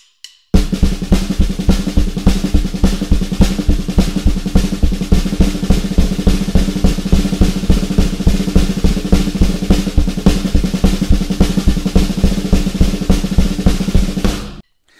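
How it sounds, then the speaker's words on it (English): Drum paradiddles played as fast 30-second notes form a relentless, evenly spaced stream of crisp strokes, loud and close, running alone for about fourteen seconds before stopping. "play it as simple paradiddles so you can hear the subdivision"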